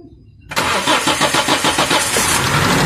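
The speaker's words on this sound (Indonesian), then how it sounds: "alhamdulillah mesin sudah hidup" After near silence, a Daihatsu car engine fires up following a timing belt repair and settles into a close, loud, rhythmically pulsing idle.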